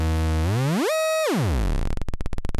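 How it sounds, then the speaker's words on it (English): A pulse-wave tone from a modular synthesizer oscillator sweeps up in pitch, holds briefly, glides back down, then breaks into a fast stuttering buzz, bright and hollow, with no voices. "Last there is the pulse wave."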